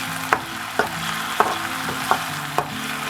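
Onion and ginger garlic paste get stirred in a hot pan with fennel seeds, a bed of frying crackle broken by six evenly spaced spoon knocks against the pan, close and loud, no voices.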